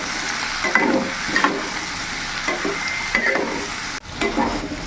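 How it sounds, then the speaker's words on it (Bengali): Onions shallow-fried in a pan with turmeric and chili powder, stirred through a steady sizzle as a spoon scrapes and knocks at irregular intervals, close and moderately loud, with no talking. "আমি কিছুক্ষণ নাড়াচাড়া করে একটু শ্যালো ফ্রাই করে নিয়েছি।"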